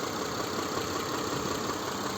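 The 3.0 V6 petrol-gas engine of a 2007 Mitsubishi Outlander XL idling with the hood open, a smooth, quiet, even hum heard close and alone.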